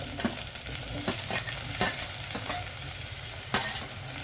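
Raw banana pieces and drumsticks frying with onions in a hot pan, a close continuous sizzle broken by repeated scraping stirs of a spatula, no talking.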